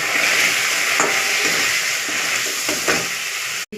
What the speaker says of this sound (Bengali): নুন, গুঁড়ো লঙ্কা আর জিরে ধনে বাটা ভালো করে একটু কষিয়ে নেব।